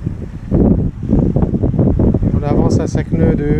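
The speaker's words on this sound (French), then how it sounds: "Le vent s'est relevé." Strong wind buffets the microphone aboard a sailboat under mainsail alone, making a loud, gusty roar throughout while someone speaks French over it.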